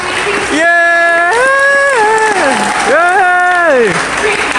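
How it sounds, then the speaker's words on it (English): Students at a college orientation applaud their orientation leaders, loud crowd clapping mixed with high, sustained voices cheering and whooping close by, the cheers rising and falling over the steady patter of hands. "Can we get a round of applause for our wonderful orientation?"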